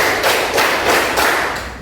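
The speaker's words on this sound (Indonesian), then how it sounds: "Tepuk 2 kali, tepuk 5 kali" A classroom of students clapping hands together on a teacher's count, several loud, even rounds of group claps in a steady rhythm, close and with no talking.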